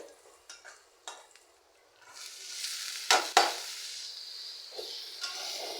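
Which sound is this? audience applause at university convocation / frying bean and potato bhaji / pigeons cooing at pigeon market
frying bean and potato bhaji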